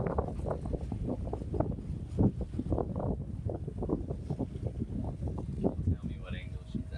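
A sailboat heeling under sail off the Croatian coast after leaving Split, with a steady rush of wind and water and heavy wind buffeting on the microphone throughout, people talking over it.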